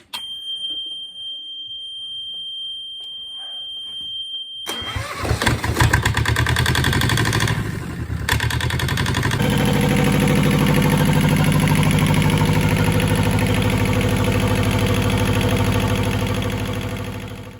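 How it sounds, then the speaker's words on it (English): A Yanmar 2GM marine diesel engine on a workshop stand cranks over, catches and settles into a loud, steady running clatter after a high electronic beep. "probably turn it over, let it run for a little bit longer to get it nice and warm again"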